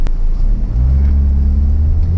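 A Peugeot 408 with the AL4 automatic gearbox, in Sport mode, pulls hard at full throttle: a loud, steady low engine drone that rises slightly in pitch as it accelerates, heard from inside the cabin with no talking.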